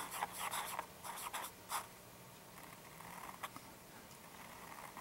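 Vintage Conklin fountain pen with a flexible nib scratching across paper in short strokes, loudest in the first two seconds and then quieter, close up with no talking.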